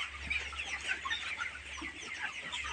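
Chickens in a poultry pen cluck in a steady chorus of overlapping calls, moderately near, with no talk.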